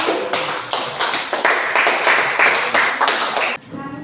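Applause from a classroom audience for a presenting student group, a dense burst of many hands clapping at close range, steady for several seconds and then cutting off abruptly.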